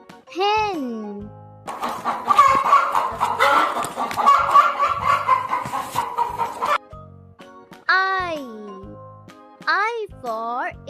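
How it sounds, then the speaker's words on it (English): A hen clucks in a busy, noisy run of sounds in the middle, while a voice speaks briefly before and after it. "H for hen."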